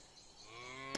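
A single cow lets out a long, drawn-out moo, rising steadily and close by, in the medieval farming game Medieval Dynasty.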